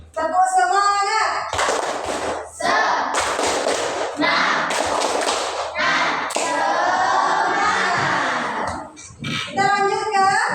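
Students in a classroom perform a rhythmic cheer clap (tepuk semangat), patterned bursts of hand claps and thumps mixed with children's voices chanting along, loud and close, repeating in several rounds.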